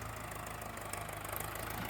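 A tractor engine idles close by on farmland, giving a steady, low, rhythmic chugging with an even pulse. It runs alone, with no talk.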